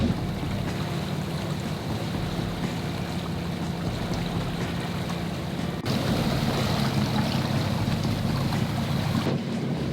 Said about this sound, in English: The waves come straight from behind